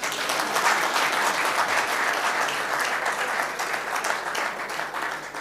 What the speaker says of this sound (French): Vous n'applaudissez pas pour vous-même?